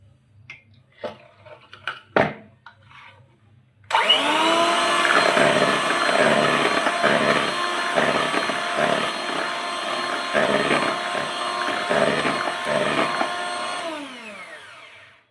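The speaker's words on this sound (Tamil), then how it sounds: "நம்ம ஒரு 2 மூடி வெனிலா எசன்ஸ் போட்டு பீட் பண்ணிக்கலாம்." Electric hand mixer beating cake batter with vanilla essence for a no-oven pineapple upside-down cake, a few light taps first, then a loud steady whirring drone that runs on and winds down at the end.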